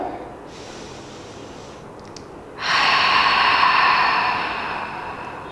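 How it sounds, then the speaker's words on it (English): Slow, deep breaths during a yoga session: a softer airy inhale, then a louder, broad exhale rushing out through the nose for a few seconds before it fades, close and alone. "Take a nice deep breath here."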